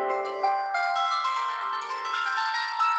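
A Ukrainian bandura, its plucked strings ringing in a gentle run of a few sustained notes, close and soft, with no talking over it.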